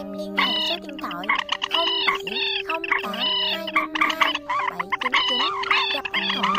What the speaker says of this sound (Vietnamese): Anh em cần bản gốc của tiếng chim này mà không bị chèn nhạc vào